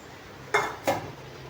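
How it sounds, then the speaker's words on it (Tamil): An iron kadai being set down on a stove, two close metallic clanks about a third of a second apart in an otherwise quiet kitchen. "இப்போது இதே அடுப்பில் ஒரு இரும்பு கடாய் வந்து வச்சுக்கலாம்"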